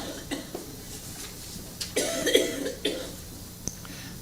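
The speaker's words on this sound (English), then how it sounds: "Watch that cough there." A single deep, chesty cough bursts out near the mic, with a few fainter throat noises before and after against a quiet room.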